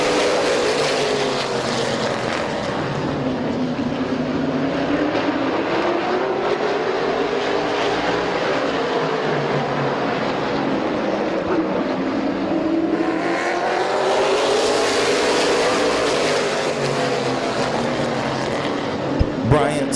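Race cars at Midvale Speedway roar continuously past the microphone, engine pitch rising and falling as the pack laps the oval, loud and close.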